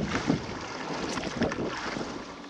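Steady wind rush and water wash surround a sailboat heading out of the Gulf of Fonseca off Honduras, close and fairly loud, with soft buffeting gusts and no voices.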